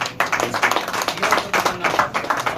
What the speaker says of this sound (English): So please give him a big applause to Mr. Akhil Jain